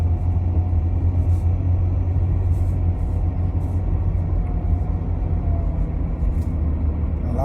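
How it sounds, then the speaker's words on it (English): Low, constant road rumble from inside a moving car in traffic, with engine drone and tyre noise filling the cabin evenly throughout, and no one speaking. "Traffic."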